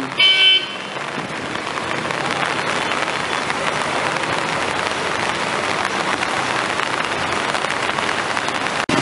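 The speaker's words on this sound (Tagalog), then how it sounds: "Lalo lumakas ang ulan" Heavy rain pours steadily in a dense, hissing roar, with a brief louder noise at the start and no voices.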